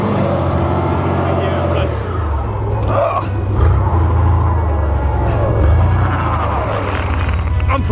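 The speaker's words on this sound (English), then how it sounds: "He was literally doing a burnout." Car engine revving hard with wheels spinning in snow during a stuck burnout, loud and continuous, with people talking and shouting over it.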